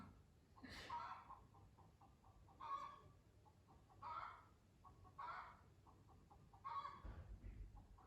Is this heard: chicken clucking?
yes